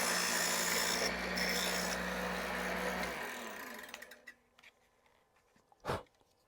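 A small hand saw cuts through a thin piece of wood for a ship model grating, a steady rasping stroke for about three seconds before it stops, followed by a few faint clicks and taps.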